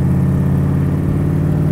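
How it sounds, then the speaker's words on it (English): A 1965 Shelby Cobra Factory Five replica's engine revs gently under light throttle, a steady, loud, deep exhaust rumble filling the whole moment without any speech. "Exhaust sounds amazing. Of course, she's got plenty of power. I'm just touching the accelerator."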